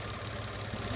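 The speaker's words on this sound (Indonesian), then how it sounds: "Suara mesin juga halus." The engine of a 2016 Mitsubishi Mirage GLX with manual transmission idles steadily up close, a low even rumble with a light mechanical ticking running through it.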